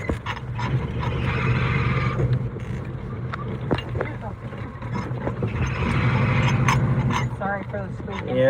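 Power steering pump of a car squeaking in repeated high chirps while the engine runs, with voices talking over it near a flooded creek.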